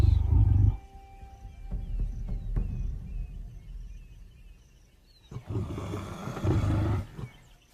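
A lioness growls and roars a hostile warning at a group of large rival lions, deep rumbling bursts near and loud at the start, then quieter grumbling, swelling again into heavy growls toward the end.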